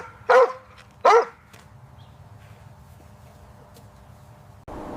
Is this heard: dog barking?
yes